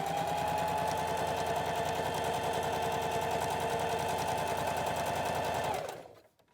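A sewing machine stitches the front and back panels of a cloth face mask together, running fast and steady with a dense mechanical chatter for nearly six seconds before stopping abruptly.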